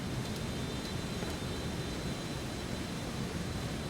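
In X-Plane 12, a Citation X business jet climbs toward cruise altitude with a continuous broadband roar, a steady dense rush of engine and air noise that holds level throughout, with no voices.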